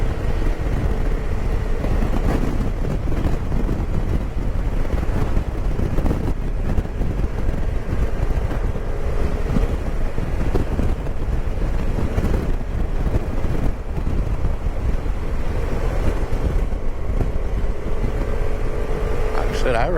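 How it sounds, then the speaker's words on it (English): A Kymco 300i scooter rides along the road, its engine drone steady and continuous beneath heavy wind buffeting on the microphone, no speech heard. "But yeah, it's a good little scooter."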